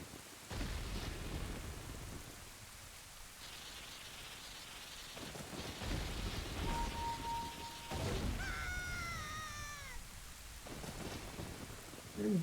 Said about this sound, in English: And I've summoned a rainstorm.